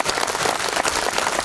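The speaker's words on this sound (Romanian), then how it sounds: "haideți să-l aplaudăm" A crowd claps steadily for a venerable general at a folk concert of choral and instrumental music, dense applause filling the room without a break from start to finish.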